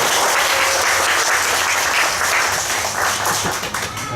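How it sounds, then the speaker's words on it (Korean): A church congregation gives loud, close applause for two young women from the youth group, with dense, continuous clapping under a low hum that thins slightly toward the end. "김은희 자매하고 도영 자매한테 우리 박수 한번 더 주셨으면 좋겠습니다"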